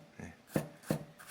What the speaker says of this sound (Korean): 썰어줄 때는 이렇게 막 이렇게 썰어주시면 돼요